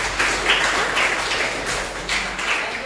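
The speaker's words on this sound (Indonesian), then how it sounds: "berikan tepuk tangan" A classroom of students claps together after a teacher's prompt, a steady, dense patter of many hands that keeps an even level and surges slightly in waves.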